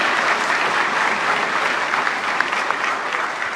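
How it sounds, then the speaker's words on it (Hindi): Dense, steady applause from a large audience at a conclave, following a sung Hindi performance, sustained and loud throughout with no talk over it. "एक बार जोरदार तालियां"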